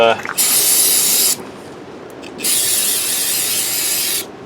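Carburetor cleaner sprays from an aerosol can to rinse down a Craftsman garden tractor's axle shaft during an axle seal replacement, making two strong, close hissing bursts separated by a short pause.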